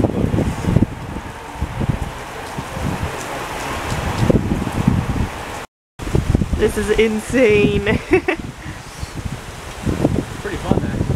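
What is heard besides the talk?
strong wind with rustling leaves before a storm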